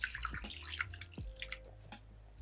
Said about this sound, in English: Now I'm just gonna add some water until we cover the chicken.